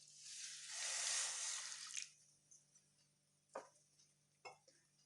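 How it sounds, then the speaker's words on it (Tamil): Water is poured into a pot of green peas for boiling, a loud splashing pour over roughly two seconds, followed by a few faint clinks and taps of the pot. "கொஞ்சம் முழுகிற அளவுக்கு தண்ணி ஊற்றி"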